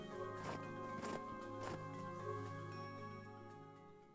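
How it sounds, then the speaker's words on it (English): Footsteps crunching through snow in a video game, a steady series of soft regular steps over a sustained musical backdrop, fairly quiet and fading toward the end. "The sound of the snowy footsteps continued as we trekked along."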